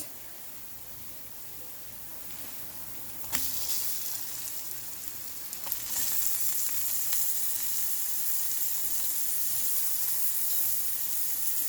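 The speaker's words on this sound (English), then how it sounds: "I'm gonna start putting my pork chops into the pot" Pork chops frying in a pot make a faint, steady sizzle and hiss, with a couple of sharp crackles as pieces are added, after which the sizzling grows slightly louder and continues evenly.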